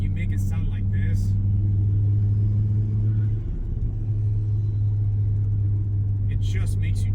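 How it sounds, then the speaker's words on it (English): A Volvo V70 R's turbocharged engine hums in a steady low drone while driving, with a brief dip midway, as a person talks at the start and end. "I will never ever get tired of turbo noises in any vehicle."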